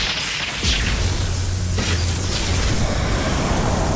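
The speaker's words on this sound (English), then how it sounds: "What about our new flashbang?" In the Batman Telltale video game, a flashbang grenade goes off with a sharp burst and a booming blast, followed by a ringing hiss that lingers, with no talk.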